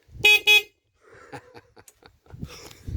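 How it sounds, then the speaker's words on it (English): Two short honks from the horn of an electric scooter moped under restoration, sounding loud and close in quick succession, then quieter clatter and faint background sounds. "The sound of a well-honed horn working"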